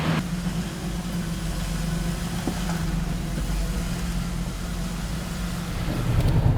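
A 2004 Ford Explorer with a newly replaced rear wheel bearing cruises on the road, its engine and road noise a steady low drone heard from inside the cabin, rising slightly at the end, with no talking.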